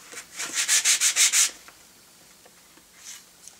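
Bristles scrubbing over small aluminium shelves cut from a car radiator, a burst of about six quick rhythmic strokes, close and fairly loud, then a pause and a couple of lighter brushes.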